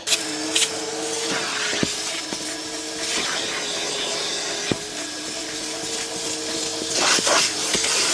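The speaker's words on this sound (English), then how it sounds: "So it's time to give the seats a wet vac." A George wet vac runs steadily while cleaning filthy car seats in a high-mileage Ford Fiesta ST, its loud continuous whir and suction hiss broken by a few brief knocks and clicks.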